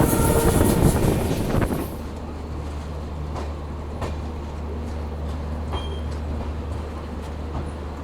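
A Humsafar Express train runs along the rails, heard from inside a 3rd AC coach as a steady low rumble with occasional wheel clicks and squeaks, louder for the first two seconds, with no talk.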